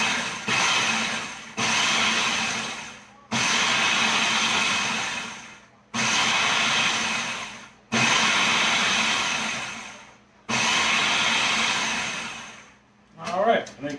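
A food processor pulses a pumpkin cheesecake crust mixture with melted butter in five loud, close bursts of about two seconds each, separated by short silent gaps.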